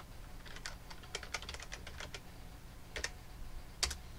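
Quick bursts of keystrokes on a computer keyboard, faint and fairly close, irregular clicks with short pauses and a couple of sharper taps near the end, no talking.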